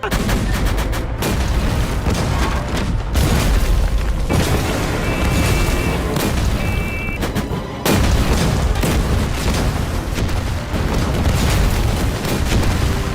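Heavy booming Japanese cannon blasts and rapid gunfire pound continuously, loud and dense, with repeated deep explosions throughout.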